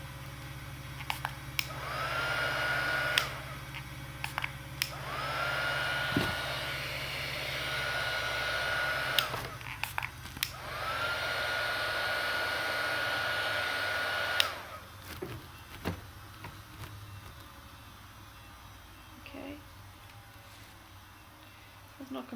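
A hair dryer blows on alcohol inks over playing cards in several steady bursts of airy whooshing, each lasting a few seconds, with short pauses between them and a quieter stretch near the end.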